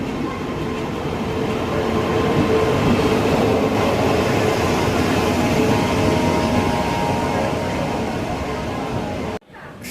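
Passenger train on the Tenkasi route running steadily on its rails, a loud continuous rumble and rattle heard from on board that holds constant and cuts off abruptly near the end.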